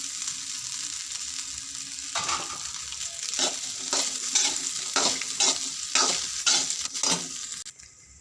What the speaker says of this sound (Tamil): வடித்து வச்சுருக்க சாதத்தை இப்போ இதில் கொட்டி கிளறிடலாம்